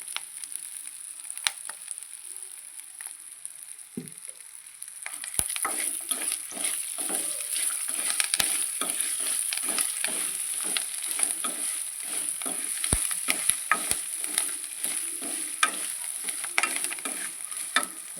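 Steady sizzling of rice frying in a little oil in a pan for tamarind pulihora, with a spoon scraping and stirring in regular strokes that grow busier partway through.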